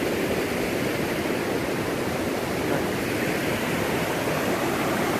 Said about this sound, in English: because of how quickly the water's moving due to the rain